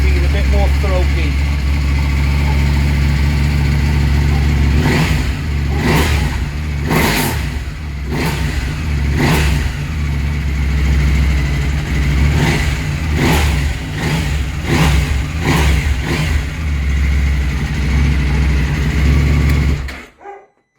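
KTM 790 Adventure motorcycle engine fitted with a pre-filter, idling loudly up close and then blipped through a series of sharp throttle revs, with a throaty note before cutting off abruptly at the end.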